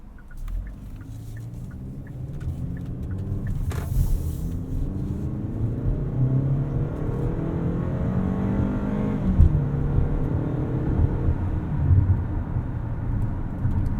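A 2019 Hyundai Santa Fe crossover with a 2.4-liter engine and all-wheel drive accelerates hard, its engine note rising steadily in pitch over a continuous road rumble, heard from inside the cabin without talking.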